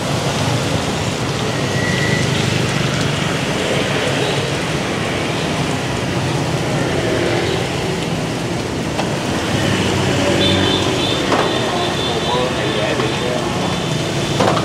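Steady rain pours down on a Saigon street beside a bánh xèo stall, a dense continuous hiss with occasional passing traffic and faint distant rumbles.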